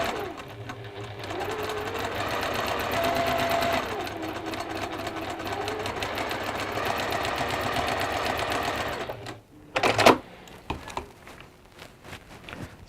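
A sewing machine stitches the middle strip joining two parts of a fabric crown cushion, whirring steadily for about nine seconds with slight changes in speed, then stopping, followed by a few handling knocks and clicks.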